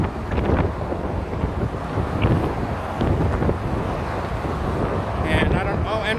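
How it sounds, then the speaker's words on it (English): Strong gusts buffet a microphone on the Golden Gate Bridge, a steady loud low roar of wind noise with a busy traffic rumble beneath, running throughout and briefly under faint voices. "I know it's very, very windy today, and then there's also the car traffic, which is extremely loud."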